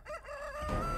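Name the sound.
chicken crowing in a video game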